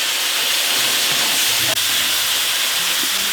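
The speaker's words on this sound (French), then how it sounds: "On va déglacer le fond." A hot pan is deglazed with water while making homemade beef and broccoli, giving a loud, steady steam hiss and sizzle that fills the whole stretch. There is a faint clink partway through.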